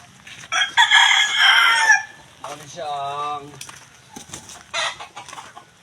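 Chickens and roosters on a farm crow loudly and cluck close by, several calls overlapping, while a person speaks briefly among them.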